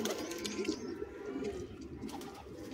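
Soft, low cooing of a male pigeon repeats close by in a quiet loft setting, a gentle throaty murmur with faint background noise.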